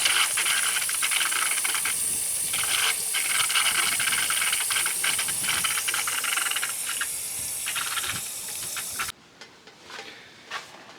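Steady loud hiss of water rushing through a cheap Lowe's water softener during its brine slow rinse cycle, with faint rattling, cutting off abruptly near the end to quiet room noise.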